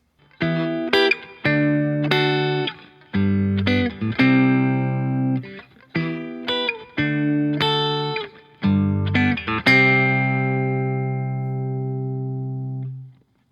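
Clean electric guitar chords picked note by note in a slow, repeating pattern, each chord ringing out before the next, the last one left to fade.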